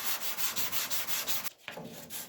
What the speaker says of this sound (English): I'm switching to another shaped DuraBlock to match the contour of the body.